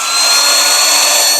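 Fein power tool cutting into metal tubing, a steady, loud high-pitched whine that holds even for just over a second.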